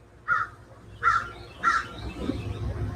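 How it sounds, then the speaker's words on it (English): Three loud crow caws sound outdoors, spaced about two-thirds of a second apart, then a steady background hum of outdoor noise continues with no further calls. "the birds are loud today"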